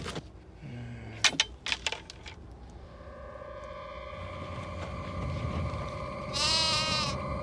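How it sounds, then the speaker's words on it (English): A sheep bleats loudly and long near the end of a comedy scene set on National Park land, preceded by sharp clattering hits and a rising background hum. "That sheep's on National Park land."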